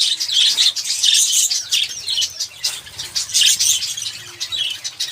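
Pet birds feeding on a seed mix fill the space with steady chirps and tweets, close and lively, with small rustles beneath and no talking.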